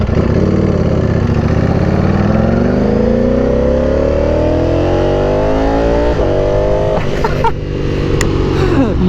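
A tuned Ducati Panigale V4R motorcycle engine revs hard and close, pitch climbing in a long loud sweep that then drops back with a few sharp pops, no talk over it.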